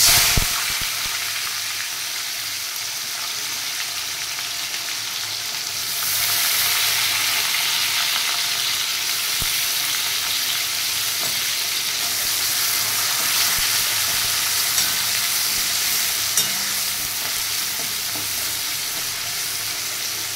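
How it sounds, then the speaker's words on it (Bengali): Chopped onions frying in hot oil in a pan while being browned for home-style vegetable rice, a loud, steady, close sizzle that runs unbroken the whole time and swells briefly partway through, with no talking. "পেঁয়াজটা একটু লাল করে আমি ভেজে নেব।"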